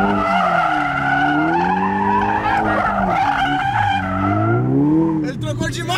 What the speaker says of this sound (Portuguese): Agora vamos ver se ele vai fazer drift.